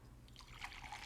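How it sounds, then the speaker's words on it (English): Washed Pacamara coffee poured into cups, a soft close trickle and splash of liquid lasting about a second, fairly quiet. "Come on out, Brian, as I pour us up some delicious cups of this gem of a coffee."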